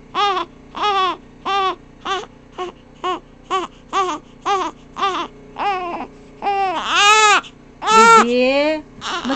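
A baby cries loudly and close by in a rapid series of short, regular wails that grow into longer, strained, rising cries toward the end, with no other sound around it.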